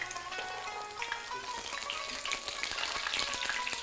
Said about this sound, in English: And we'll continue frying them from the other side